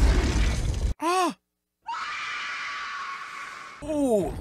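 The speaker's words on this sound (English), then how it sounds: "that's a good scream" A horror-film scream from Alien: Romulus rings out in rising and falling wails, split by a sudden silence, then a sustained noisy roar and another wavering cry near the end.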